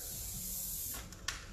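Session Spray Flex hairspray mists onto hair in a steady, soft hiss close by, ending with a couple of short puffs.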